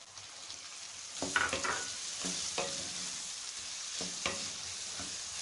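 Chicken frying in a pan makes a soft, continuous sizzle at moderate distance, with occasional stirring scrapes and spatula knocks rising above the hiss, and no talking.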